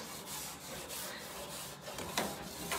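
A metal scraper rasps across a hot grill in steady, close rubbing strokes, with a couple of sharper scrapes near the end and no talking.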